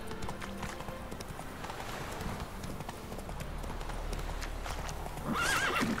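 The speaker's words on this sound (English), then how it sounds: "Oh, get off the horse!" A horse in The Witcher 3 video game, its hooves clip-clopping at a steady pace under low game ambience, ending in a loud whinny.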